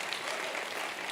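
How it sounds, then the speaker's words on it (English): Audience at a sales masterclass applauds steadily, a dense wash of many hands clapping close and loud throughout, with no voices standing out. "So clap for yourself for how far you've come with your business."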